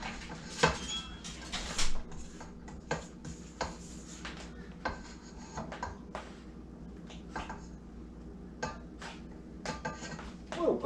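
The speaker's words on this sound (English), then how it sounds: "Whoa, puppy dog." A puppy whimpers in a home kitchen during cheesecake making, high soft whines and yelps scattered among clinking dishes, utensil taps and scraping against a mixing bowl.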